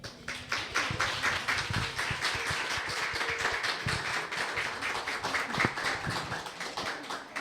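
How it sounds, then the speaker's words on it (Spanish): Welcome applause from a small audience at a collage exhibition and talk in a café and tea house, a steady patter of hand claps lasting several seconds with no talking over it. "Por favor, quiero que le demos un gran aplauso de bienvenida."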